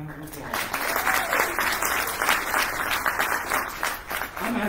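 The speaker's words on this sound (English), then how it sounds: "Give him a round of applause." A crowd gives a round of applause for a young man named Scrappy at an AniKituhwa warriors gathering. The clapping is dense and sustained for several seconds, with voices mixed in.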